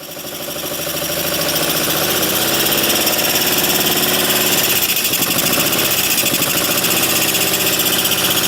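BMW R90S barn-find motorcycle engine running loud and close, a rough mechanical roar rising as the throttle is worked, with a brief dip and recovery midway, no talking.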